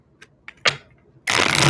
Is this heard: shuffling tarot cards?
yes